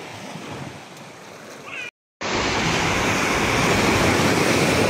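Surf breaking and washing up the sand on Koh Samet's beach, a steady broad roar of waves with wind buffeting the microphone, cut by a brief gap before the surge returns louder and continuous.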